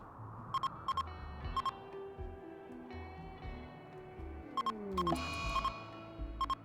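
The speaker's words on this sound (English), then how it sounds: "All that beeping is all these animals being returned to the wild." Repeated electronic beeps sound in RimWorld as animals are released to the wild, short clusters of bright tones over a quiet game music bed, bunched into pairs and triplets and louder toward the end.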